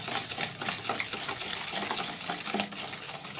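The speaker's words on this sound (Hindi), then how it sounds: "और इन सब चीज़ों को मैं अंडे की सफेदी में मिक्स कर दूंगी। इसको अच्छे तरीके से मिक्स करना है।" Ingredients being mixed by hand into egg whites for a sponge cake, a continuous close scraping and swishing with quick rhythmic strokes and no voices.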